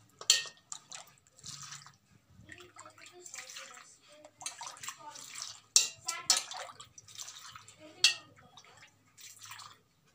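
Prepared coconut milk is poured into a bowl for a coconut milk bonda dish, making soft, intermittent splashing and trickling sounds with brief drips, close and fairly quiet, with no talking over it.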